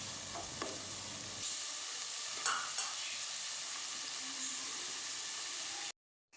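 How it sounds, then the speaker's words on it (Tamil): Chopped onions sautéing in a pan with fenugreek, cinnamon and cardamom for a Tamil crab masala gravy, giving a steady close sizzle with a few stirring scrapes, then cutting off abruptly near the end. "அடுத்து நம்ம கட் பண்ணி வச்சுருக்க வெங்காயத்தை அது கூட சேர்த்து நல்லா நம்ம வந்து வதக்கிக்கலாம்."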